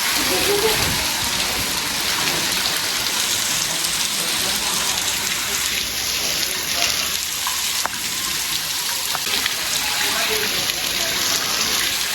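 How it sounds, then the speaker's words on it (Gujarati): Heavy monsoon downpour at a temple near Olpad, Surat, pours in a dense, unbroken roar that fills the whole stretch, loud and close. "જો મિત્રો કેટલો ધોધમાર વરસાદ ચાલુ છે"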